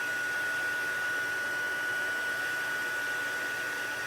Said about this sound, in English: I have my heat tool and I'm just going to heat this